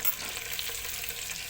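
Meat frying in hot melted butter in a hot pan gives off a dense, steady sizzle, close and fairly quiet, with no voices.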